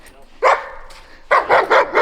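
A dog barks at close range: one loud bark, a pause, then a quick run of four sharp barks in a row.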